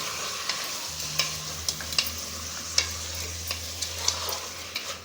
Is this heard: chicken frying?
yes